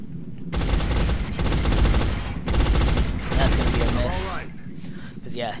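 Sustained, loud automatic gunfire as a soldier lays down suppressing fire on a floater alien in XCOM, continuous bursts for several seconds before tapering into scattered electronic sounds, with a voice talking over it.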